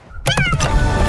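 A person imitates a cat with a loud, close, drawn-out meow, a short wavering cry that opens sharply and fades into a nasal tail.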